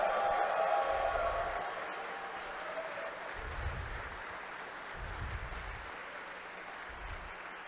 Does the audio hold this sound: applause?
yes